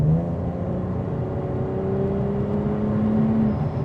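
Supercharged 2017 Holden VF SV6 accelerating, a continuous engine drone whose pitch climbs steadily at moderate volume, heard from inside the car with no talking.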